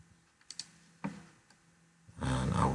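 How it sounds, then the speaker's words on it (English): Two quick mouse clicks close together, a light double click on a computer mouse, followed by a burst of louder keyboard-like clatter near the end. "I can just drop this here, and I will double click"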